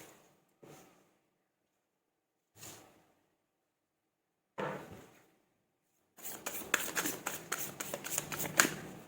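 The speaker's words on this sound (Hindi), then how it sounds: "मैं निकालती हूँ आप लोगों के लिए कार्ड" Tarot cards handled for a career reading, starting with three soft separate riffles and then a steady rapid flurry of shuffling, close up and quiet with no talking.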